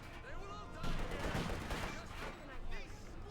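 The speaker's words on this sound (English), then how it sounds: "Guys now caught by the machine gun and the command tank takes a fire there." Machine gun fire rattles in the Company of Heroes 2 video game, a dense burst of rapid shots mixed with battle noise, while a commentator talks over it.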